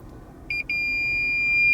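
A 2019 Lexus UX250h F Sport shifted into reverse sounds three quick clipped beeps, then a sustained tone, loud and close inside the cabin.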